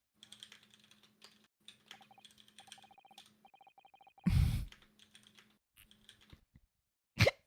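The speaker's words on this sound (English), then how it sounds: "It sounds like a typewriter." Rapid clicky computer keyboard typing in bursts of sharp keystrokes, close and fairly quiet, with short pauses between runs and a couple of louder thumps.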